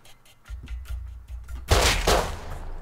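Gunfire in the online survival game Rust: a series of short, sharp reports in a dark interior, ending in a louder, heavier burst of shots, with no talking over them.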